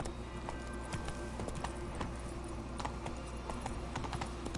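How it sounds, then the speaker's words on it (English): Roach, the horse in The Witcher 3 video game, walking with a steady clip-clop of hooves over continuous ambient game background sound, fairly quiet, with no speech. "Roach, you can't walk over a river. What kind of horse are you, bro?"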